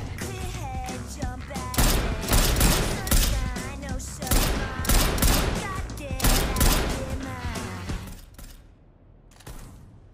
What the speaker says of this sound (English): they fire the gun for Rayal